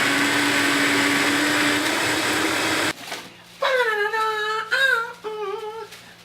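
A blender whirs loudly, blending vegetables and fruit (lemons, celery, sprouts, kale) into a soup, then stops abruptly, followed by a voice singing close by.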